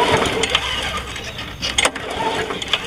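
A Snapper Big 6 Ninja lawn mower engine, model RP21600, is spun over by hand, giving a few irregular clattering compression pulses and scrapes, fairly close and without an engine firing.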